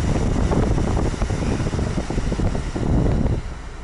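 Steady rushing airflow from a Volvo S90 car seat ventilation fan, a broad whooshing hum that dips briefly partway through and eases off near the end.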